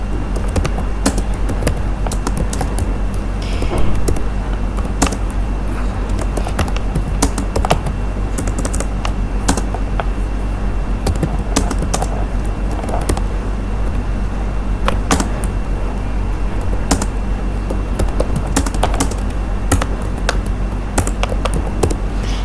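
Steady typing on a computer keyboard while entering text into a Microsoft Word page, with continuous close clicking of the keys over a constant low background hum and no talking.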